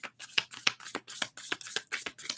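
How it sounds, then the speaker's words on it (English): Tarot cards being shuffled by hand at close range, a steady run of crisp riffling bursts and soft slaps repeating roughly every quarter second, with no voices. "Continue shuffling."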